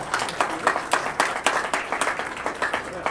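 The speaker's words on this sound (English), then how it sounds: "Give her a nice round of applause" Guests at a media holiday luncheon clap in a light, uneven round, individual hand claps audible as distinct sharp hits rather than a dense wash.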